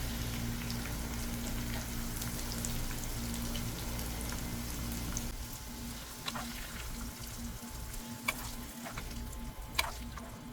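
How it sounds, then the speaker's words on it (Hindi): Okra frying in oil in a pan, a steady close hiss and sputter with occasional sharper pops, running continuously alongside a low hum and no talking. "भिंडी काफ़ी हद तक फ्राई हो गई है"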